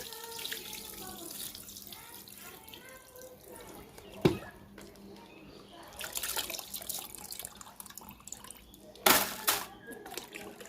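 Water is poured off freshly washed rice in a home kitchen while making puffed rice, heard as intermittent splashing and trickling bursts from a vessel, quiet overall with sharper gushes partway through and near the end.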